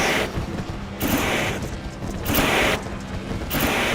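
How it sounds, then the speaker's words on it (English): Fireworks burst after a race win in a racing video game, a series of loud crackling booms arriving in repeated clusters roughly every second over a dense background roar. "Fireworks are going off."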